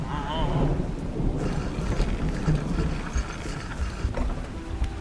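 Thunder rumbles and rain falls in the video game Dredge, the storm's crackle and patter steady and moderately loud throughout with no talking.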